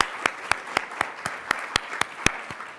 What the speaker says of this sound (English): we do want to recognize you with a round of applause